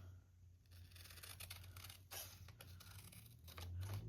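Scissors snip through strips of carpet tape to cut them in half for homemade washi tape, a few quiet, close cuts and crinkles over a faint room hum.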